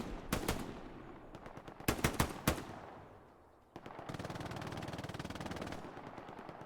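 Gunfire from the World War II shooter Hell Let Loose in a large 18-versus-18 match: several loud bursts and single shots crack early, then a dense sustained stretch of rapid machine-gun fire rattles on, with no talking.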